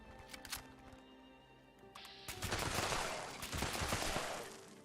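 Heavy automatic gunfire with exploding rounds in Fallout 76, a dense rattling burst that swells after a brief quieter stretch and stays loud and continuous to the end, with no voices.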